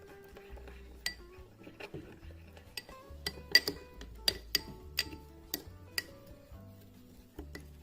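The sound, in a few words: mixing crushed stock cube with vegetable oil in bowl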